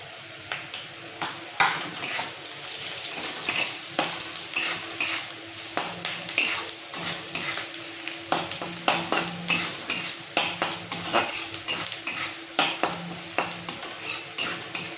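Rohu fish roe stir-fried with turmeric, chili and cumin powder, a constant loud sizzle broken by rapid rhythmic scraping and clacking of a spatula against the pan, close up with no voices.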